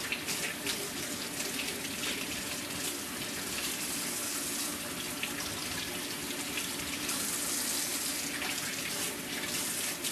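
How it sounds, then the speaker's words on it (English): Tap water runs steadily from a kitchen faucet over ears of corn held under the stream to clear off the silks, a constant hissing splash beside the sink's garbage disposal with no one speaking. "I just prefer to put it under the water."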